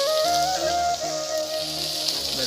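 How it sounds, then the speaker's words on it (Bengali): Onions and chillies fry in oil at a picnic, making a short, steady sizzling hiss while music plays over it. "এই যে তেল দিয়ে এখন পিঁয়াজ মরিচ দিয়ে ভাজা হবে"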